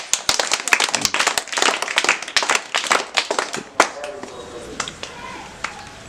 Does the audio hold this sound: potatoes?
no